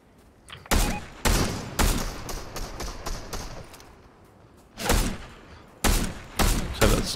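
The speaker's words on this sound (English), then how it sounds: "Don't know who they're shooting at." Gunfire rings out in Fortnite: loud, sharp shots in spaced bursts, some single and some clustered, with echoing tails and no voices over them.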